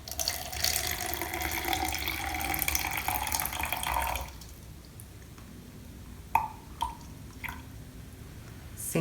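Water poured from a container for weighing during a concrete mix test, a steady splashing stream for about four seconds, then a few isolated drips and small clunks in a quiet room.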